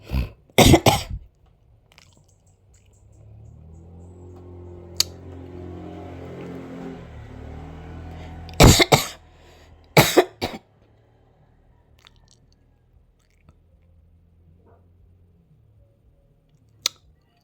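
Two bursts of harsh coughing, one at the start and a cluster later, separated by a low humming rumble; quiet otherwise, with a sharp click near the end.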